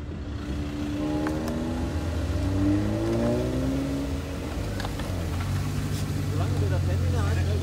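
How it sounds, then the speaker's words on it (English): A van drives around the Nuremberg racetrack, its engine droning steadily from inside the cabin with rising and falling revs as it accelerates and shifts, continuous throughout. "we're going to go around in a van, and Nigel's going to drive us"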